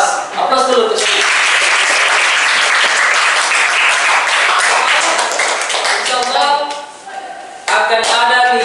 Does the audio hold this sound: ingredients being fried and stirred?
no